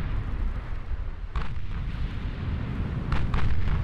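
Secondary naval guns aboard a German 1920s warship in a naval battle game fire in a few separated booms over a low rumbling background, two or three sharp reports spaced across the stretch, moderately loud with no talk.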